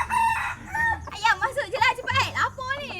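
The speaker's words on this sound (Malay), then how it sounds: "Ayam masuk je lah." A chicken crows and clucks near a village home in Malaysia, with loud, close squawking calls and a drawn-out crow coming in bursts, mixed with people talking.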